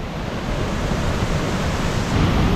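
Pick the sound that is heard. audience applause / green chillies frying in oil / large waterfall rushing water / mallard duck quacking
large waterfall rushing water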